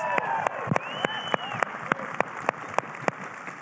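Rhythmic hand clapping by a church congregation, sharp claps at a steady beat over sustained tonal sounds and voices in the room.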